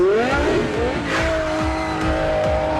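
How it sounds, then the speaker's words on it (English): A Maserati sports car in a Furious 7 movie scene roars loudly with rising and sliding engine tones, tire squeal and racing sounds, continuous throughout. "Okay, what engine is in that Maserati?"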